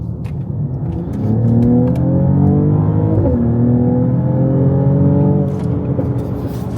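A car engine rumbles steadily as the vehicle drives, with rising and falling harmonic tones suggesting gear changes and revving, loud and close, no voices.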